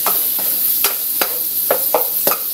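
Tomatoes frying and softening in a pan, with steady sizzling and repeated scraping stirs of a utensil, close and fairly loud.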